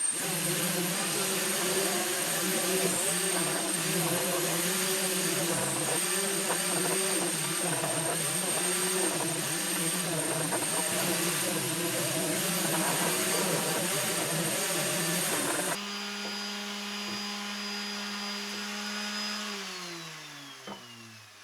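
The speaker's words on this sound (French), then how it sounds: "Et avant l'assemblage, je ponce toutes les pièces." A power sander works over wooden workbench parts, a steady loud whining roar with motor hum that changes pitch and winds down near the end.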